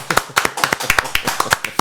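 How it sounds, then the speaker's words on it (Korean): A studio audience claps in welcome for two guests on a Korean economics talk show, a brisk run of sharp, close hand claps in uneven rhythm, loud and steady for nearly two seconds. "박수로 환영하겠습니다"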